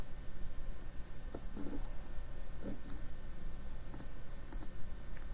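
Computer mouse clicks, a few faint, sharp, separate taps spaced irregularly over a quiet room hum.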